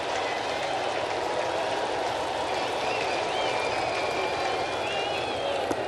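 At a Yankees vs Cardinals ballpark game, a large crowd stands and cheers in a continuous loud roar with scattered clapping and whistles.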